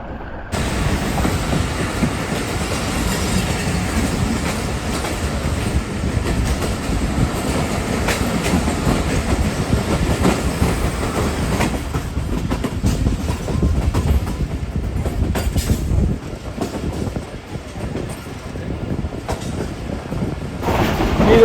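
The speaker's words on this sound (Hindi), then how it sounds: "इस वीराने में जो है वो फाइनली GU40 की आवाज़ हमें सुनने को मिली है।" Rehman Baba Express passenger train hauled by a GU40 locomotive, heard from a coach far behind the engine on a winter journey: continuous loud rumble and rattle of the carriage with clickety-clack wheel beats and occasional hiss.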